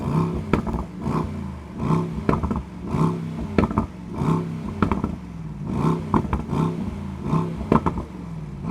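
A Mercedes-AMG Mythos PureSpeed V8 heard from outside, a loud near engine giving repeated throttle blips and revs in bursts over roughly nine seconds, with idle rumble between.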